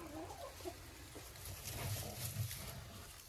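Hens and a rooster cluck softly in a dacha yard, a few low, faint calls close by with no talk.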